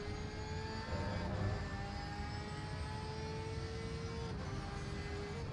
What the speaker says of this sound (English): The Boxster engine is honestly one of the best to hear.